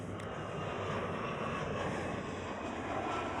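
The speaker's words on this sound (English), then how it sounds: "It's KLM City Hopper E175 passing us." A KLM CityHopper Embraer E175 regional jet passes by at Amsterdam Schiphol, producing a steady, broad engine roar that holds even throughout, fairly close and continuous with no talk.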